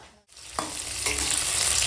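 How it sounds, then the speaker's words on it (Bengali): Bhetki fish head and tail fry in hot oil, giving a close, loud, steady sizzle that swells after a brief pause, with a few stirring scrapes in the pan. "দেখো এখন ভেটকি মাছের লেজা মুড়ো ভাজা হয়ে গেছে তুলে নেবো"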